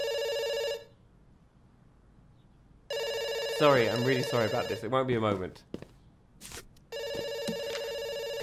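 Telephone bell ringing in the video game Dr. Langeskov, The Tiger, and The Terribly Cursed Emerald: loud steady ring bursts start and stop, with someone speaking apologetically between the rings.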